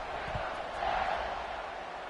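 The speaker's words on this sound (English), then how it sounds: "this crowd is feeling themselves after that last drive" A stadium crowd in the NCAA 26 football game, Baylor against Georgia Tech, roars steadily at a distance, a dense wash of cheering with a commentator's voice over it.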